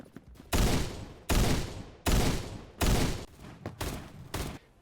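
Heavy gunshots from a Desert Eagle-style pistol in the Phantom Forces shooter game, five or six loud, sharp booming blasts spaced about a second apart, each with a short decaying tail, the last few quicker and closer together.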